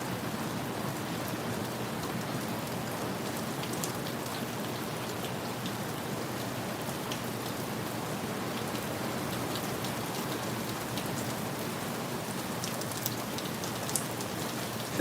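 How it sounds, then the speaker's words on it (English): Heavy rain pours down in a steady, dense hiss with patters on surfaces, constant and fairly loud, no voices. "It's a lot of rain."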